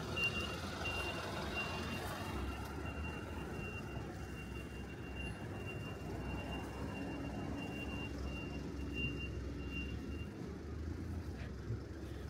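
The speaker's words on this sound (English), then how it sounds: "I'm just gonna move out of the way of this truck." A truck's reversing alarm beeps steadily and fairly faintly on a street in Asakusa at night, a repeated high tone over a constant wash of traffic and city noise, with no talking.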